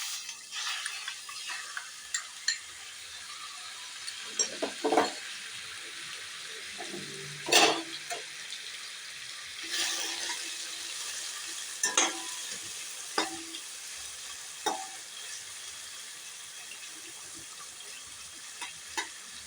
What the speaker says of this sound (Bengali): প্রথমে একটু হালকা করে চিংড়িটা ভেজে নেব